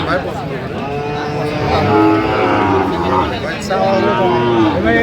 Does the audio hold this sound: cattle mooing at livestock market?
yes